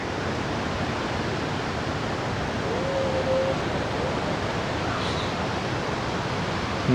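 Khone Phapheng waterfall on the Mekong in southern Laos pours with a steady, dense roar of rushing water, constant and unbroken throughout, heard without any voices.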